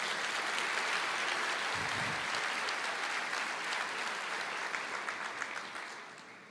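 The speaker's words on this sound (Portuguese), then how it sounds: "Aplauda, aplauda, Senhor." Steady, dense applause from a large church congregation, many hands clapping continuously at even loudness before tapering slightly at the end.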